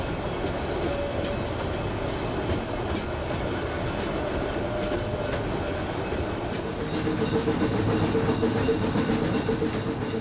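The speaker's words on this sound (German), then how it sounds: "Die Züge fahren mit Maximallänge." Molli narrow-gauge steam train of the Bäderbahn on its railway, nearly 80-year-old Orenstein & Koppel locomotives hauling maximum-length trains, a steady loud rumble of rolling wagons and wheels on track throughout, with no talking.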